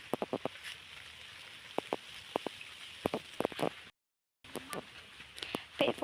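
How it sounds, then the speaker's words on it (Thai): Rain falls in a forest: sparse drops tick and patter on leaves, soft and close, with a brief silent gap partway through. "มาวันนี้ฝนตก"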